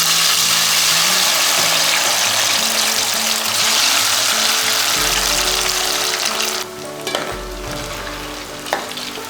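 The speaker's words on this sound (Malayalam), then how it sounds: "എണ്ണ ചൂടായിട്ടുണ്ട്. നമുക്കിതിലേക്ക് അരിഞ്ഞു ഉപ്പ് ചേർത്ത് വെച്ചിരിക്കുന്ന കൊള്ളി ഇട്ട് കൊടുക്കാം." Salted cassava (kappa) slices frying in hot oil in a pan, a loud, dense, steady sizzle that fills the whole clip, easing slightly toward the end with a few scraping knocks.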